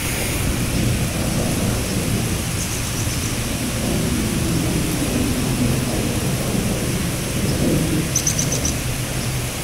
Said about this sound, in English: I heard the thunder.